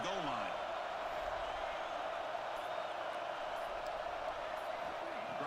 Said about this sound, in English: the crowd really making some noise now